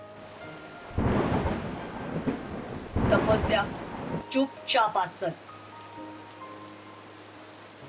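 Steady rain pours down with deep rumbles of thunder in two heavy surges, then a voice speaks briefly over the wet background.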